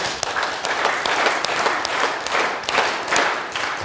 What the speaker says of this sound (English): All right, now clap your hands 9 times.